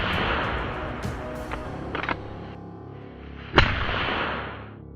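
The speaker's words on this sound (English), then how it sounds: "The sound of gunfire echoed through the forest, triggering more movement" A rifle shot during a wild boar hunt in a forest, a single sharp crack with a trailing echo, heard after some rustling and lighter knocks.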